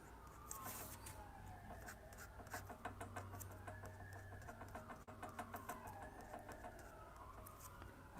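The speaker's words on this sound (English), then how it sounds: "Oh, sirens going off here." Faint police-type sirens wail outside, rising and falling in slow sweeps across the whole stretch, distant and low beneath close pen-on-paper scratching and tapping during a live drawing session.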